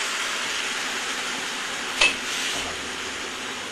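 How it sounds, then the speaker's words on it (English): Chili-curd paste sautés with fried onions in a pan, giving a steady close sizzle throughout with one sharp utensil click partway through. "I'm going to saute this for some time"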